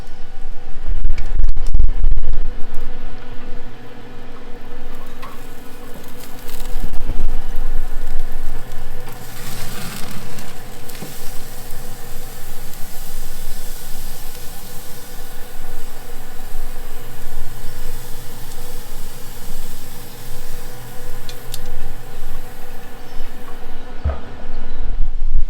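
Wagyu steak sizzles on a Big Green Egg grill after a flip, a steady crackling hiss running throughout with a few scraping clatters at the start and a low hum underneath.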